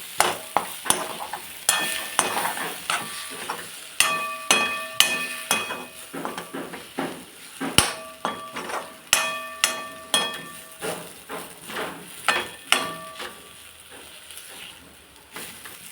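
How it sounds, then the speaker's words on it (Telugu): A spoon scrapes and clinks against a pan while ginger and garlic fry in it, the rhythmic strokes repeating steadily over a faint sizzle, up close. "అల్లం వెల్లుల్లి వేస్తున్నానండి. ఇప్పుడు కలపాలన్నమాట."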